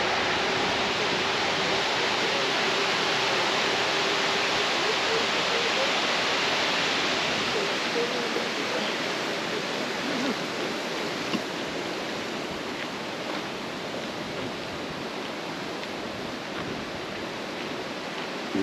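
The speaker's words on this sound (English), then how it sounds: "Horsetail Falls is a beautiful waterfall located in Keystone Canyon near Valdez, Alaska" Horsetail Falls, a waterfall in Keystone Canyon near Valdez, Alaska, pours as a broad, continuous hiss of rushing water, steady and fairly loud throughout with no voices.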